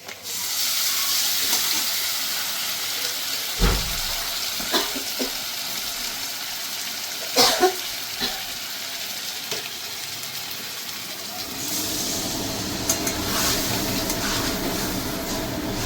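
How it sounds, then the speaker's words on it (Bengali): A paste of green chili, ginger and garlic with chili powder and turmeric fries in a pan for a cauliflower and katla fish curry, a steady hissing sizzle broken by a few sharp spoon knocks. "আমি ভালো করে এবার মশলাটাকে একটু কষিয়ে নেব"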